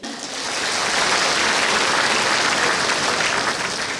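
Steady audience applause at a Buddhist nun's dharma talk, dense and continuous for about four seconds, swelling in at the start and holding loud without voices on top.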